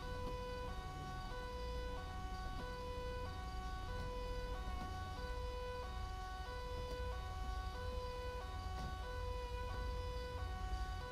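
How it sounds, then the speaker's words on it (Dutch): A police siren in the GTA 5 roleplay video game wails steadily, alternating between two tones in a regular rhythm over a continuous engine rumble, loud and close throughout. "Politie de sirene staat aan."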